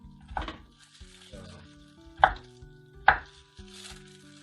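A knife chops vegetables into small pieces on a board in a home kitchen, with a few sharp, separate thuds spaced irregularly, close and distinct over a soft background sizzle.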